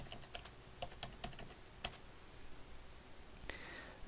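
Fingers type a password on a computer keyboard at a terminal during PostgreSQL setup on Ubuntu: a sparse run of close, crisp key clicks with irregular gaps and a final firmer keystroke, no talking.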